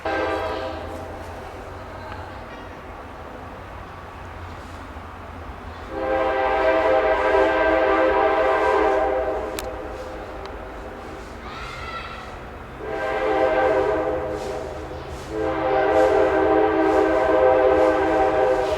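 A train horn blows in several long, loud, sustained blasts separated by short pauses, over a low rumbling background.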